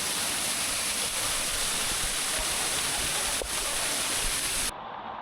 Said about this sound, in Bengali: এখান থেকে জলটা অনেকটা নিচুতে যাচ্ছে